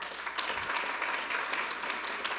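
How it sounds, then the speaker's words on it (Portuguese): A crowd claps steadily, a dense patter of many hands that stays even throughout, with no voices over it. "Uma salva de palmas."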